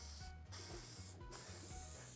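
Short hissing bursts from a 70-year-old vintage aerosol can being sprayed, two quick pulses over a faint background, with no one talking.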